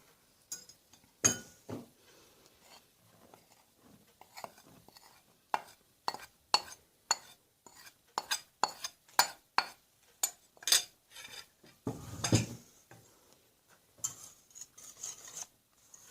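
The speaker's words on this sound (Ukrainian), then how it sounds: "І також гарненько розмішуємо." Batter of flour for a poured pie is stirred in a bowl, a spoon scraping and knocking against the sides in quick irregular strokes, close and fairly quiet, with no talking.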